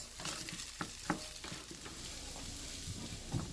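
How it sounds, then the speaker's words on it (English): Chopped onions hitting browning ground meat in a frying pan while making keto African meat pie filling, giving a steady close sizzle with a few sharp clatters and scrapes of stirring, no voices. "I'm going to be adding my onions."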